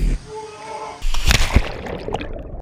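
Big splash from a jump off a waterfall, a rushing burst of water after a brief quieter lead-in, close and loud, with a muffled churning tail as the water settles.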